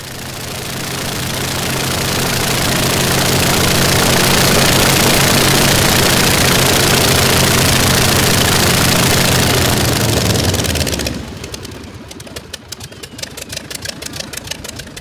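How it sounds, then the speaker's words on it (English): An aero sled, a propeller-driven craft, runs its engine with a loud, steady roar that swells, holds, then cuts off after about eleven seconds, leaving a quieter uneven rattle. "On this craft, you don't hear the propeller. You hear the engine."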